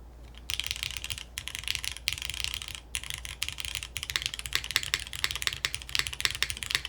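Fast, steady typing on a Porsche-inspired custom mechanical keyboard fitted with force break tabs, clean clicky keystrokes close up with brief pauses between bursts.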